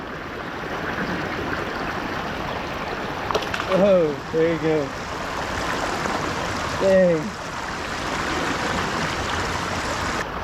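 Cold creek water rushing steadily during bass fishing near Fort Worth, a constant broadband flow filling the clip, with a man's brief spoken exclamations heard over it.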